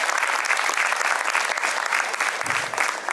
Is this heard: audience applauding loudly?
yes